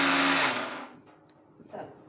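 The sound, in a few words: mixer grinder grinding grated coconut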